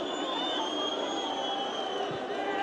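Football fans in the stands at a Russian league match between Anzhi Makhachkala and Spartak Moscow keep up a steady, distant crowd roar and chanting throughout, with no sharp bursts.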